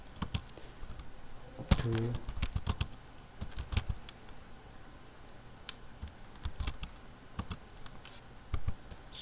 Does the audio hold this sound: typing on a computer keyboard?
yes